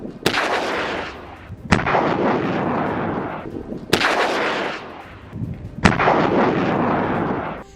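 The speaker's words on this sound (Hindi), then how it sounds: "अल कुद्स का कहना है कि उसने यहां पर हैवी मोटर गोलों से हमला किया है।" Heavy mortar shells and rockets fire in an attack, four loud sharp blasts spaced about two seconds apart, each followed by a long rumbling roar that fills the gap before the next.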